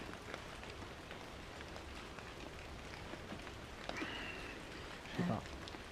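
Rain falls outside at night near an old mill, a faint continuous hiss of drops with occasional soft taps, under low murmured talk and a brief clatter of handling noise near the end.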